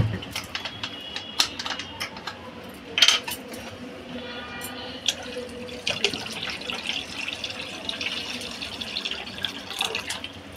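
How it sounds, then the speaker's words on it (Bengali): Water is poured and stirred into aam panna, a green mango drink, with trickling, clinks of a spoon against a vessel and a few sharper knocks, close and moderate in a kitchen. "এটাতে এবার আমি আরও জল মিক্স করে নেব।"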